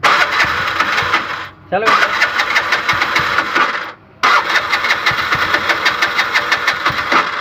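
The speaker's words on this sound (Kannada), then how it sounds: "ಗಾಡಿ ಸ್ಟಾರ್ಟ್ ಆಗ್ತಾ ಇಲ್ಲ, ಇದು ಇಂಜೆಕ್ಟ್ರ್ ಹೋಗ್ಬಿಟ್ಟಿದೆ." Bajaj BS6 auto rickshaw engine with a failed injector cranks repeatedly without catching, a loud rapid chugging broken by two short pauses, with someone talking over it.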